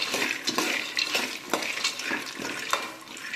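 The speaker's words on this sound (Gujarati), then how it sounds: "એમાં આપણે દાણા એડ કરી દઈએ અને આવી રીતના હલાવી તળી લેવાના." Peanuts frying in a little hot oil for puffed-rice chevda, stirred in the pan: steady bright sizzling with repeated scraping strokes of the spoon at a quick, irregular rhythm, close and fairly loud, with no voices.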